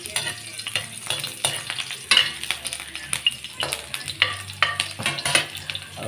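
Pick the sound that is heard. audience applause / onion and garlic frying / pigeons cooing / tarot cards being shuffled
onion and garlic frying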